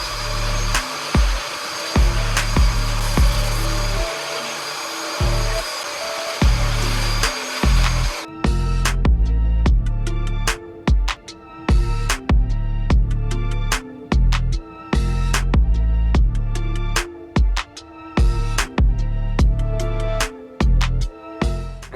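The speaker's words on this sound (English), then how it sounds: "then we'll go right back to cleaning the carpets with our shampoo cleaner." Carpet shampoo extractor cleaning the carpets of a BMW E90/E91 wagon: a loud, steady motor roar runs alone for several seconds, then turns choppy with rapid on-off bursts as the cleaner is worked.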